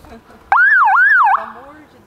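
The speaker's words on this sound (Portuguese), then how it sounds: "Essa é a buzina" A car horn sounds once, loud and close: a single warbling, siren-like electronic tone lasting just under a second, with a brief ringing tail afterward.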